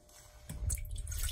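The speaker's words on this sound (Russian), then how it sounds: "Наливаем в сотейник молочко и включаем плиту." Milk poured into a saucepan on a stovetop while making custard cream for a pie, a soft liquid splash that starts partway through and continues steadily, close and fairly quiet.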